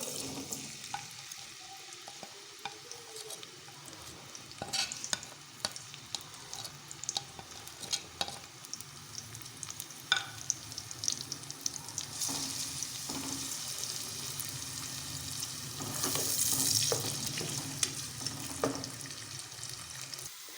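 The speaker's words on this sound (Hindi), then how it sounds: "और इसके अंदर प्याज डालेंगे फ्राई होने के लिए।" Onions frying in half a cup of oil for a spicy potato dish, a soft steady sizzle with scattered stirring taps and clinks, rising into a louder hiss near the end.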